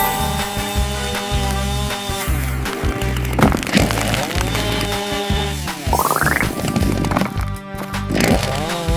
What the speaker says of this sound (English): The monkey holds a chainsaw and continues cutting the wood.